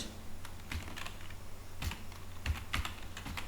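Keys clack on a computer keyboard as text is entered during a WordPress tutorial, a steady run of light taps with a few sharper strokes, close and alone in a quiet room.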